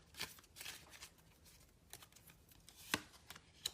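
Tarot cards are gathered up and handled after several spill during a reading, making soft, close, intermittent riffles and flicks of card stock, quiet and with no talk.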